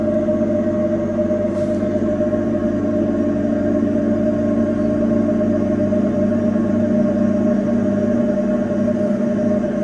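A light aircraft's engine runs steadily during a run-up at full rich mixture to 2,000 RPM, a loud, continuous drone with a strong, even hum that holds for the whole stretch.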